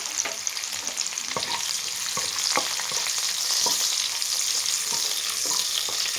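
Biryani spices and green chillies fry in hot oil in a pan, giving a steady bright sizzle throughout with occasional stirring clicks and taps close by.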